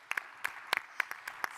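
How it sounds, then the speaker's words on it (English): A plenary session audience at a Women Mayors Leadership Alliance annual meeting gives a round of applause, heard as faint, scattered individual claps in a loose rhythm. "Can we give Kathy another round of applause?"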